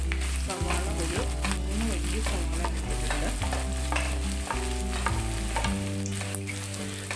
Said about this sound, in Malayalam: ഇനി നമുക്ക് ഒരു പാനിൽ ഞാൻ എണ്ണ ചൂടാക്കി അതിലേക്ക് ഒരു 2 വലിയ സവാള ചതുരത്തിൽ അരിഞ്ഞതാണ് അതിട്ട് കൊടുക്കുകയാണ്